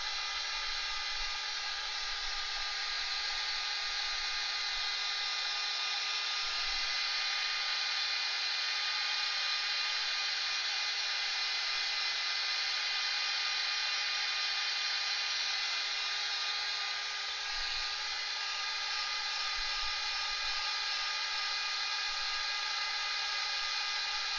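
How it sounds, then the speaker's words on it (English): A heat tool blowing on watercolour paint gives a constant, even electric whirring hum, close and steady for the whole stretch, with no talking and no breaks. "the heat tool will stay on my desk throughout the entire month so that we can use it while we're painting to dry things"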